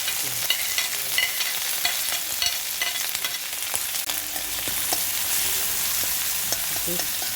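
Mustard seeds, green chilli, curry leaves and garlic frying in hot oil for an onion theeyal, giving a steady dense sizzle with scattered crackles and pops throughout, close and alone.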